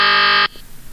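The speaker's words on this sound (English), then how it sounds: "you want a buzzer?" A loud, sustained electronic buzzer blares for about half a second and then cuts off abruptly, leaving quiet room noise.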